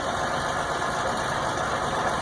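A Continental GO-300 aircraft engine idling slightly high, a steady, even, droning rumble with a continuous hum and fine knocking texture, close and unbroken.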